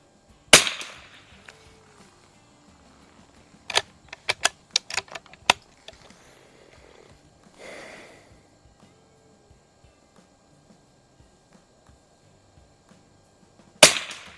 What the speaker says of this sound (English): 5 more shots with the Winchester